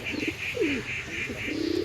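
Pigeons kept by a pigeon fancier coo in several low, throaty bursts close by, with a regular thin chirping repeating in the background.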